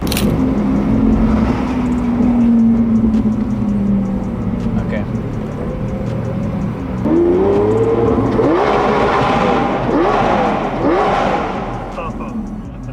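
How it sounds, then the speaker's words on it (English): A car engine revs and accelerates while driving, the exhaust rising and falling in pitch, loud and close, with some talking over it. "You just listen to the exhaust as you're driving"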